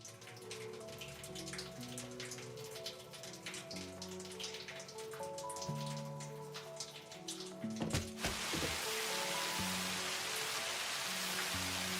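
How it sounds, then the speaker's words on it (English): Steady rain falls in the video game Satisfactory, a dense, even hiss that swells to full strength partway through after soft tonal game music, with no talking. "Rain's actually falling now."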